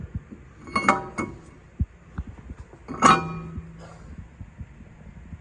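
Hub-centric rings slide onto a new brake rotor for a 1969 Mustang Mach 1, two sharp metallic clinks a couple of seconds apart with small taps between them in a quiet garage.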